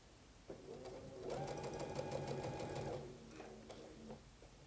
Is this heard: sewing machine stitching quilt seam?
yes